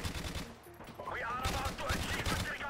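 Gunfire from Modern Warfare Remastered in scattered in-game bursts of shots, mixed with game sound and faint background voice, moderately loud throughout.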